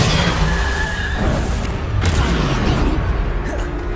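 Bombarda explosion spell cast again and again in Hogwarts Legacy, a dense, loud run of booming blasts and crackling impacts layered over continuous battle noise, with a shouted voice mixed in.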